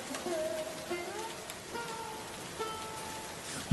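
Steady rain falls as a soft, even hiss, with faint tonal background music running beneath it and a brief thump at the very end.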